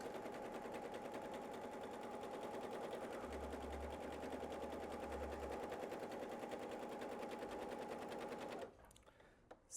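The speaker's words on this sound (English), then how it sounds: "do what I call thread tracing, and I'll do it on the machine." A sewing machine runs a long steady burst of rapid stitching at 4 millimetre stitch length, thread tracing a seam allowance on fabric, close and continuous before stopping abruptly near the end.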